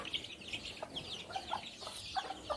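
Several free-roaming chickens under trees cluck softly in short, scattered calls over a faint outdoor background.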